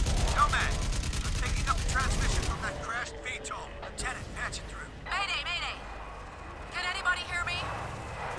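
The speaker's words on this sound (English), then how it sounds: "Damn it, we're taking fire." Rapid automatic gunfire in the video game Crysis Remastered, loud, fast, evenly spaced shots for a couple of seconds, then it stops and a voice talks over quieter game sounds.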